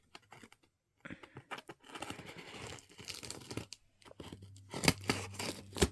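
Scissors cutting and tearing open a fragile cardboard box holding manga, with close crinkling, snipping and scraping in irregular bursts after a brief quiet opening.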